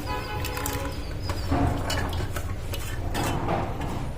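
Chopped raw mango pieces tumble into a bowl of Ugadi pachadi, a steady run of soft clatters and dull thuds with light scraping, close and alone against a bed of low room noise; a bird twitters faintly in the background.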